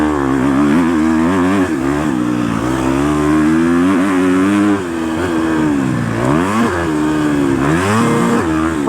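A Husqvarna FC250 dirt bike's engine revs hard, climbing and falling in pitch through several loud, close acceleration sweeps with no pause.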